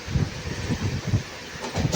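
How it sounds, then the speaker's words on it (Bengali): A MEMU local train rumbles into Gosaigram station at night, with a steady rolling roar and a regular clickety-clack of wheels over rail joints, heard from inside a compartment. "আমাদের ট্রেন ঢুকছে তার ৬০০তম স্টেশন গোসাইগ্রাম"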